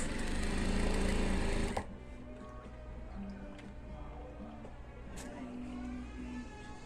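A sewing machine stitches a men's dress shirt collar with a loud, steady whir for about two seconds. Afterward a quieter, steady hum continues with faint handling sounds and some talking.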